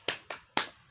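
Three sharp hand claps in a quick rhythmic pattern, the clapping cheer from a classroom lesson, close and crisp with short decays between them and no talk.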